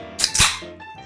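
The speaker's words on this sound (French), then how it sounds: "Donc, on ouvre la bière." A quick sharp pop and hiss as a beer bottle cap comes off, close and loud, with a brief fizzing tail afterward.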